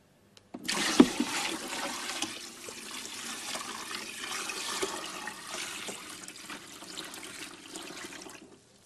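Water pours steadily into a container to raise the water level in a measurement setup, a close continuous rushing splash starting abruptly with a knock and running for several seconds before stopping.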